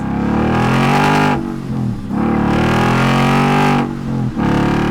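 A loud, aggressive 2015-2017 Mustang GT with an MBRP Black Series muffler-delete axle-back exhaust revs hard, holding a raspy roar, dipping briefly twice between throttle blips, close up with no talking.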